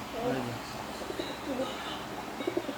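A male pigeon coos inside a cage, its low, throaty calls repeating in soft rolling phrases close by.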